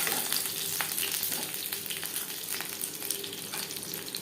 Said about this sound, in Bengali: একটা সাইড ভাজা হয়ে গেলে অপরটাই সাইডটা উল্টে দেবে